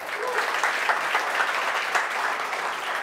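An audience in a church service clapping together, a brief burst of steady applause from a gathered congregation, moderately loud and without speech over it.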